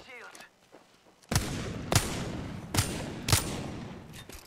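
Gunfire in the shooter game Apex Legends: four loud, sharp shots spaced about half a second to a second apart, following a quieter stretch with faint game sounds.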